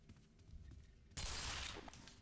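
A single loud gunshot from a weapon in the Black Mesa game cracks out abruptly after quiet room ambience, a broad burst that rings on briefly before fading.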